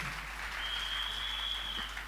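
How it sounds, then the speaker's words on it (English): A church congregation applauding continuously, a dense wash of clapping heard from a little distance, with a faint high whistle partway through. "Clap for Dr. Jesus."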